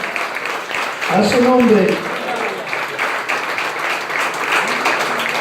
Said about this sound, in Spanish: Dale un fuerte aplauso al Rey.